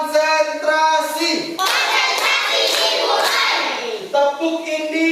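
Classroom of children doing the rhythmic 'tepuk konsentrasi' clapping game, with bursts of patterned clapping broken by a short pause, mixed with voices chanting and talking nearby.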